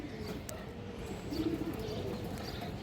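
Pigeons at a pigeon farm give soft, low coos mixed with a few faint chirps, heard quietly over a dull background murmur.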